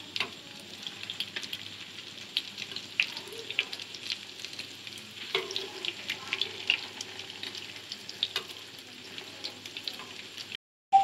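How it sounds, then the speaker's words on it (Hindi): Pinwheel snacks frying in hot oil, a quiet continuous sizzle and bubbling with small crackles and occasional light clinks, ending in a brief silence and a sudden loud burst. "तो देखें तकरीबन एक साइड से स्नैक्स फ्राई हो गए हैं। तो अब इनकी साइड भी चेंज कर देंगे।"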